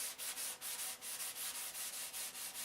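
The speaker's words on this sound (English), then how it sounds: "I got to get the weight off of it by sanding the primer off of it" Sandpaper rubs primer off a wooden piece in quick, even back-and-forth strokes, each pass a bright hissing scrape, close and continuous with no talk.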